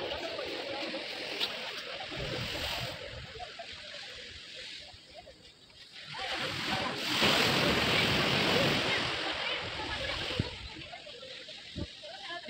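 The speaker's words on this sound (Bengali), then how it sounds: "আরও কাছে সমুদ্রটা দেখ।" Sea waves wash onto the beach at Somnath in a steady, rushing roar that swells louder partway through, with wind and people talking nearby.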